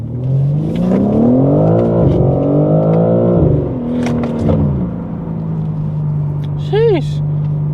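A BMW G80 M3 car driving, its engine note rising and falling with acceleration and gear changes, a steady drone inside the cabin, with a short whistling chirp late on.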